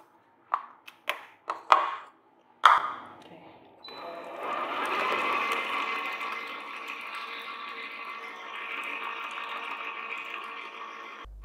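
A handheld mixer beating egg yolks into butter cookie dough: a few short sharp knocks first, then a steady whirring motor drone that runs several seconds before cutting off abruptly, close and fairly loud.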